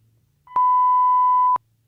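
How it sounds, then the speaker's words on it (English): A single clean electronic beep from the MetaTrader 5 trading terminal, a steady pure tone lasting about one second with sharp clicks at its start and end, alone against near silence. "So you can hear we are able to play the beep."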